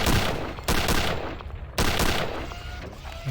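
Sniper shots in a video game as a super soldier is taken down, two loud sharp blasts each followed by a decaying echo, close and separated by about a second.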